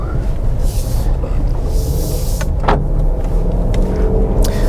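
A 2021 Jeep Grand Cherokee Summit engine hums steadily at close range as the SUV pulls away, with road noise and a few faint clicks.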